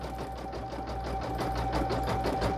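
A home embroidery machine stitches out a test font in Coats thread, a steady, fast, even mechanical whir with a constant tone running loud and close throughout, with no talking.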